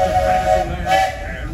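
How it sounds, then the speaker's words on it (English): A steam train whistle at Disney's Magic Kingdom sounds in a sustained tonal blast that dips, then returns briefly, loud and close against steady background rumble. "please wait until the train has come to a complete stop"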